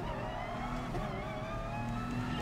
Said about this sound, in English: It's a very different engine note, isn't it?